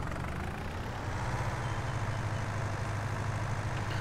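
A worn, clapped-out old tractor idles in Farming Simulator 19, giving off a steady low rumbling engine hum at moderate level with no speech.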